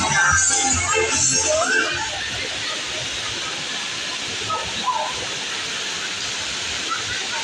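A steady roaring wash of surf at a beach resort in Iligan City, Philippines, broad and continuous, louder at first, with faint voices briefly audible.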